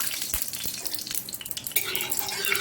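White cooking oil heating in a hot wok, giving a soft crackle and sizzle with a few clinks of a utensil against the pan, louder and brighter toward the end.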